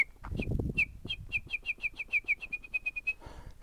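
A person whistles an imitation of a bird's warning call outdoors at Crestridge Ecological Reserve: a rapid, evenly spaced run of about fifteen sharp chirps at moderate volume, following brief rustling at the start.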